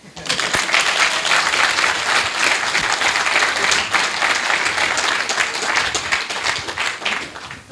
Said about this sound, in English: And now it's a second round of applause because he did that for 26 years.